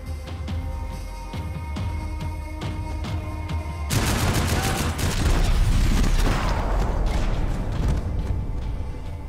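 Heavy gunfire from a big gun in the video game Max Payne 3 starts as scattered shots, then breaks into a loud sustained rapid burst of automatic fire with booming impacts that carries on to the end.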